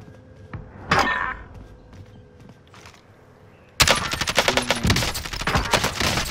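Bursts of rapid automatic gunfire in a shooter video game with riot-shield bots, a loud sustained fusillade erupting after a quieter stretch of scattered shots and clinks.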